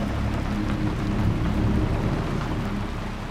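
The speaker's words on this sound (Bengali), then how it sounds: "বৃষ্টি পড়ার শব্দ হচ্ছে।" Steady rain falls just after a storm has passed, water dripping from the leaves of a large nearby tree; a continuous, even wash of rain noise with a low rumble underneath and no voices.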